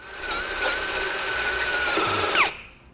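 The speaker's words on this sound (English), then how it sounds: "you're drilling through 2 layers of metal on this" A power drill whines steadily for about two and a half seconds, grinding close and loud through two layers of metal on a 2013 Cadillac SRX while fitting a base plate, then winds down and stops.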